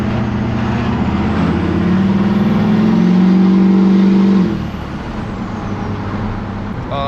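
A Duramax diesel pickup truck engine revs up with a rising whistling whine over a deep drone, holds for a few seconds, then drops back to a lower steady idle, loud and close.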